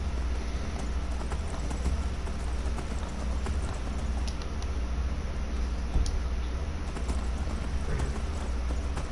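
Mechanical Dwemer horse in the Skyrim video game clip-clops steadily on hooves under a constant wash of ambient game noise, evenly paced and moderately close.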